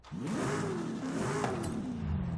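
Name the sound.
Alfa Romeo 155 stock engine revving in video game Forza Horizon 5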